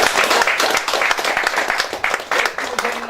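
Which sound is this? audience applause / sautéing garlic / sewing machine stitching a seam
audience applause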